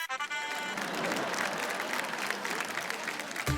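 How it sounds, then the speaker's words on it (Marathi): Studio audience on a Marathi TV game show breaks into sustained, dense applause that swells and carries on for several seconds before cutting off. "एकदा जोरदार टाळ्या"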